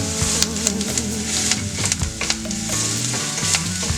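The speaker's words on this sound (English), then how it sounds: "what happens with the bacon is that the fat is going to start melting" Bacon frying in a pan for Portuguese-style rice and beans, a steady crackling sizzle with scattered sharp pops, running continuously over a sustained tonal backdrop that sounds like music.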